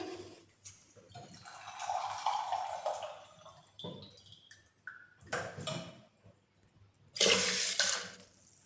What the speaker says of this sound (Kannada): ಒಂದು ಗ್ಲಾಸ್ಗೆ ಎರಡು ಗ್ಲಾಸ್ ನೀರು ಹಾಕೊತ ಇದ್ದೀನಿ